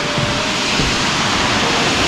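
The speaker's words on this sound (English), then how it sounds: "that's a pretty legit waterfall. And that is Moxie Falls." Moxie Falls, a waterfall roughly 90 feet tall, roars as a loud, steady broadband rush of falling water that fills the scene without a break.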